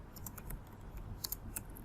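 Quick light keystrokes on a computer keyboard, a short run of soft clicks over a low room hum, close but quiet.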